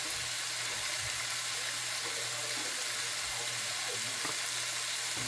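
Salted fish with tomato paste, salt and pepper fries in a pan with a steady, even sizzle, close and continuous throughout, with no talking.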